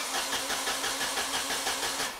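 Car engine cranking repeatedly without catching after the fuel relay has been pulled, a steady rhythmic whirring of the starter motor at close range that continues for about two seconds before easing off.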